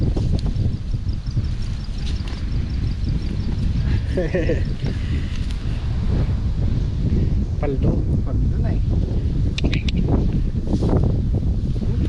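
Steady wind rushes and buffets close to the microphone for the whole stretch while fishing for tilapia near grassy water, a constant low roar with people talking briefly in Filipino over it.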